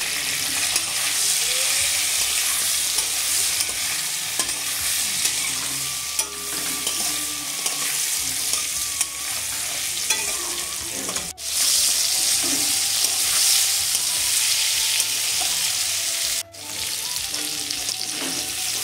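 Bitter gourd and potato pieces seasoned with salt and turmeric fry loudly in a pan, a steady close sizzle broken by repeated scraping stirs of a spatula, with two brief pauses in the frying.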